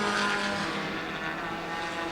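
Front-wheel-drive compact race cars on a big oval track give off a steady engine drone, distant and sustained, fading slightly over a couple of seconds with no voices.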